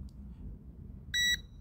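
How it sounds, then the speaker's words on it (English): A TOPTES PT330 combustible gas detector sounds one short, sharp electronic beep, high-pitched and clear over a quiet background hum, with no talking. "That's the beeping for whenever I detect combustible gas."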